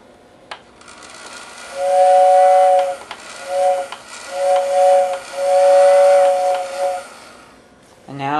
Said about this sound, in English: I'm going to let you hear the whistle real quick